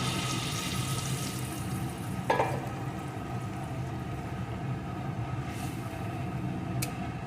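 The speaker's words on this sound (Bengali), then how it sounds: "এখন এর ভিতরে আমি দিয়ে দেবো পরিমাণ মতো জল আমি কিন্তু এখানে গরম জল দিয়ে দিচ্ছি" Hot water goes into a pot of small-potato curry, a soft continuous watery rush under a light bubbling hiss, with a brief clink near the start, close and quiet without speech.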